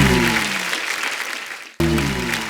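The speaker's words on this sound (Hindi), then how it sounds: "उनके लिए दिल खोल के तालियां।" Loud applause from a studio audience at a comedy show honouring poets, dense clapping that thins out, cuts off abruptly, then resumes at full strength.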